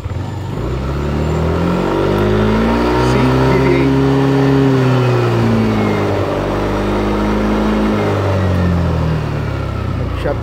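A Yamaha Mio Aerox 155 scooter engine revs up toward about 6,000 RPM and back down, its pitch sweeping up and down in smooth arcs, loud and close throughout.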